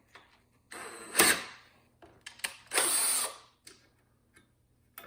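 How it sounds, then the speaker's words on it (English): A power drill bores into metal while taking apart a Roku 4 streaming player, with two loud whining bursts and a few shorter, sharper grinding touches between quiet gaps. "Did I drill into the metal?"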